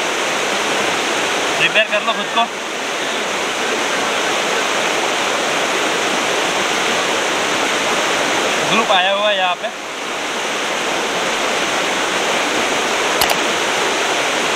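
Thottikallu Falls near Bangalore roars as a steady, close broadband rush of falling water, with people speaking briefly over it at a couple of moments.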